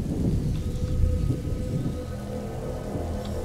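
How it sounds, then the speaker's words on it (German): Steady rain falls with a low thunder rumble in the video game A Plague Tale: Innocence, the downpour constant and moderately loud, with the rolling thunder strongest early and easing afterward. "Lukas, Hugo, bleibt aus dem Regen raus."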